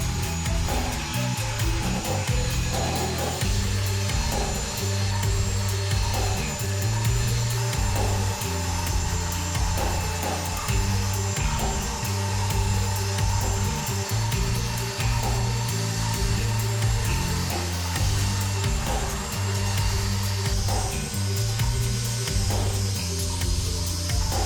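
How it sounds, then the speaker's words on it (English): Orbital sander working over weathered, weather-beaten wooden patio furniture with about 120-grit paper, a steady continuous motor whine and abrasive rubbing held at constant loudness for the whole stretch, no voices. "I'll switch over to my orbital sander and I'll put on probably only up to about, 120 grit"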